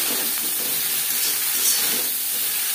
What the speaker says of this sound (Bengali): আলুও হালকা করে ভেজে নেব